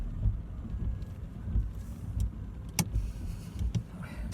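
A car reverses slowly while parallel parking during a driving lesson, a low steady engine rumble close by with a few brief clicks and knocks over it.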